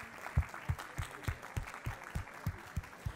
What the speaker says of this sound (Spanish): Aplauda ahí a su compañero